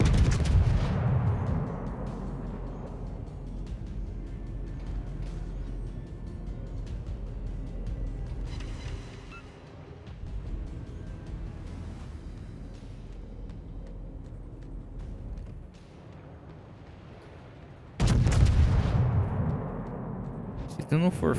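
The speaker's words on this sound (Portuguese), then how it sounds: "Vou dar um disparo aqui pra cima do Koenig." Heavy battleship cannon blasts in World of Warships, fired from the Conte di Cavour, boom out over a steady engine-like rumble, a big shot near the start and another near the end, with a voice talking in between.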